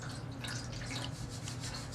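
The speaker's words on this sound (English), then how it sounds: "Now I have to stir because the paint might settle on the bottom." Water and acrylic paint stirred together in a container for dyeing paper, a steady wet swishing and dripping texture with light rubbing, continuous and close, no voices.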